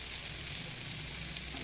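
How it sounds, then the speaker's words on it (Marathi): Drumstick vegetable sautés in a pan with crushed raw peanuts, giving a soft, steady, continuous sizzle heard alone at low volume. "छान आता हे परतून घेऊया"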